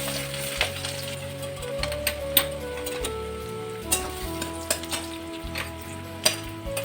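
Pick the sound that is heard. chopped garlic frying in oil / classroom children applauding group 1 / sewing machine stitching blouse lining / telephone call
chopped garlic frying in oil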